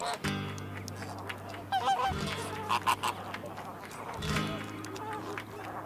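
Flamingos in the Atacama Desert give loud, nasal, goose-like honking calls, several birds overlapping in repeated bursts nearby, while a narrator talks over them.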